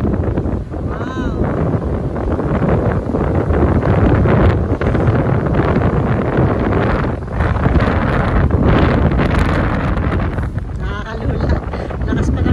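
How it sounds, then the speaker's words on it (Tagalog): Strong wind by the Blue Water Bridge in Port Huron, Michigan roars across the microphone in loud, continuous buffeting gusts near a passing ship, with people talking under it. "Lakas pa ng hangin."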